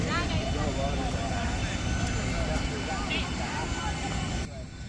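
Ryanair airplane out on an airport tarmac at dawn, with a steady broadband engine roar filling the background, fairly loud and continuous, while voices murmur underneath; the rumble drops slightly near the end.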